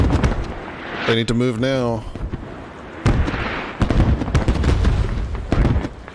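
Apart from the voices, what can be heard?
smoke artillery barrage in the video game Squad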